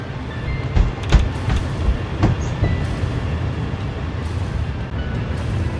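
A train in the video game Satisfactory runs along its main line with a loud, continuous low rumble and steady rolling noise, broken by a few sharp clanks and clacks near the start.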